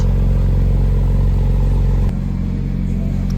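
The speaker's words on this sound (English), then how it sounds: "just listen to that exhaust" A car's exhaust roars loudly and continuously at high revs with a throbbing harmonic drone, then drops to a lower, rougher idle partway through. No one speaks.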